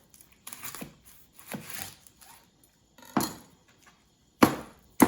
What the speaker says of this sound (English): my tip on cutting onions is, first and foremost, cut it in half